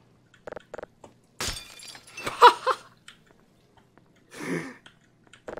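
Glass shatters in the video game Black Mesa, a sharp crash followed by scattered tinkling debris, mixed with brief coughs and throat noises.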